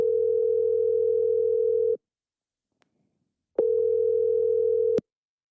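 Outgoing phone call ringback tone: two long, steady electronic tones about two seconds each, separated by a pause, heard clearly with no talking.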